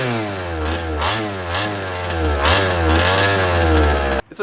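A gas-powered HPI Baja 5B RC car's small two-stroke engine runs close and loud, buzzing and revving up and down in repeated bursts before it abruptly cuts out.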